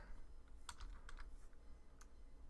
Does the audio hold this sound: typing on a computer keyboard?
yes